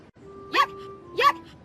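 A cartoon puppy gives two short, bright barks about half a second apart, clear and close over a faint steady background tone.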